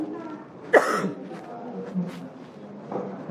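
A single sharp cough bursts out near the start, followed by quieter throat noises and soft breathy sounds.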